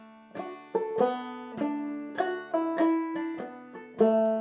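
A banjo picks a quick rolling lick of bright plucked notes that ring and overlap, played solo and close with no talking.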